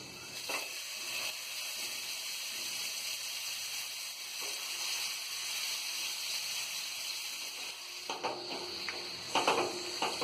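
Spices sizzling and frying in a pan for chicken biryani, a steady soft crackle throughout with occasional stirring scrapes and clinks toward the end.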